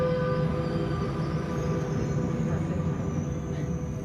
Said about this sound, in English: Listen to the train whistle.